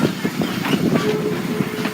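Buckley Railroad 0-4-0T steam locomotive rounding a curve at an old engine show, with rhythmic chuffing and wheel clatter close by and a faint high squeal from the wheels.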